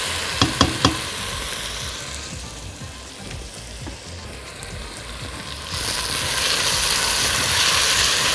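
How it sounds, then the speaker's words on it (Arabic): Vegetables for minestrone soup sauté and caramelize in a pot, giving a steady broadband sizzle with a few sharp clicks of a utensil early on, growing louder and denser toward the end, with no talking. "الخضار بتاعي كده جاهز، ابتدى يتكرمل ويدي ريحه حلوه قوي"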